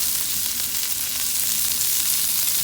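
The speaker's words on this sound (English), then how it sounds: "now we're going to stir in this asparagus" Asparagus stir-frying in a hot pan for chicken fried rice, a loud, continuous close-up sizzle with a dense, even hiss and no pauses.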